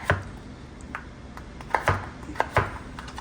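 Skin-on potatoes being chopped on a board for fish and chips, with a series of sharp, close knife strikes at an uneven rhythm over quiet background, and no talk.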